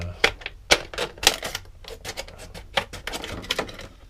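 Scissors cutting tape make a series of sharp, irregular snips and clicks up close, several quick cuts in a row with no talking.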